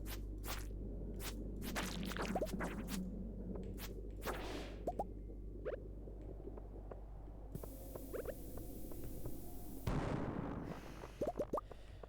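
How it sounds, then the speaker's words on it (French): A mine explosion in the Stardew Valley video game comes through as several quiet, sharp bursts and whooshes over a low hum, with no talking. "ça c'est une explosion rentable"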